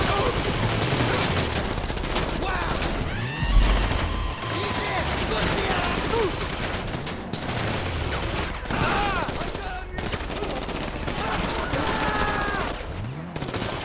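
Gunfire in the video game GTA V, with dense bursts of shots and rattling automatic fire running throughout, mixed with game effects while excited voices talk over the action.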